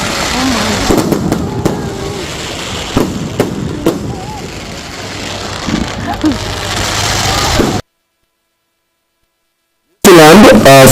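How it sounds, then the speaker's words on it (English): New Year's Eve fireworks launched from the Auckland Sky Tower crackle and pop in scattered bursts over a continuous crowd-like roar, then cut to silence before a brief loud burst returns. "New Zealand becomes one of the first countries in the world to celebrate New Year's Eve with a spectacular fireworks display from Auckland Sky Tower"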